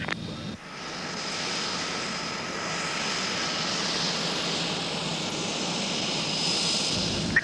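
Airplane engines roaring steadily during a takeoff at Birmingham, a sustained broadband rumble with a faint high whine, fairly loud and constant, heard alone without voices.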